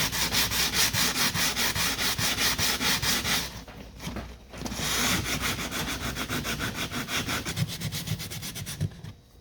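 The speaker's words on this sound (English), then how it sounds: "The point of this sanding is just to clean up the last bits of the sealant that I couldn't scrape off." Wood being sanded by hand to clean off the last bits of leftover sealant after removing a leaky deadlight, a close, steady rhythmic rasp of back-and-forth strokes with a brief pause midway, no talking.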